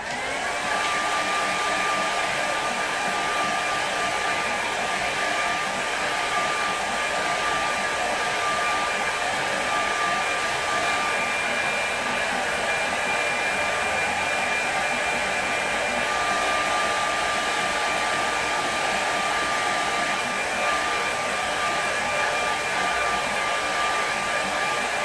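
A hair dryer blows steadily over a watercolour painting of a stream, a loud, even whooshing roar with a high motor whine that runs unbroken from start to finish, with no voices.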